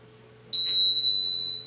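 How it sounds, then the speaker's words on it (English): A shrill, steady electronic beep from a coax cable ringer (cable tracer) switches on abruptly and holds as a continuous high tone, loud and close, over a faint low hum. "when we put this in, it should beep"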